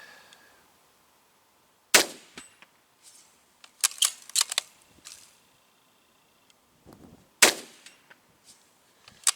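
Gunshots ringing off a steel target plate, two sharp loud reports a few seconds apart, each followed by a metallic ring, with scattered clanks and clicks between.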